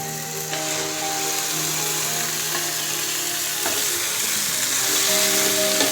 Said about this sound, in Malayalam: ഇനി നമുക്ക് മാരിനേറ്റ് ചെയ്ത് വെച്ചിരിക്കുന്ന ചിക്കൻ അതിലേക്ക് ഇട്ട് കൊടുക്കാം